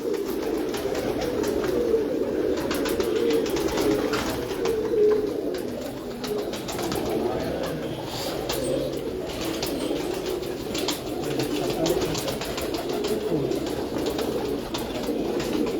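Domestic pigeons coo steadily and softly on a rooftop loft, a continuous layered murmur of several birds close by with no talk.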